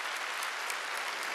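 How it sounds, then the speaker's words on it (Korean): A church congregation at a Korean Sunday worship service applauds in a short, dense, even burst of clapping that stays steady throughout, with no voices heard. "박수 치려면 지금"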